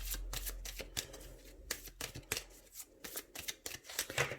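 Tarot cards being shuffled and cut by hand, a close, quiet series of riffling flicks and soft slaps in an irregular rhythm, with no voice.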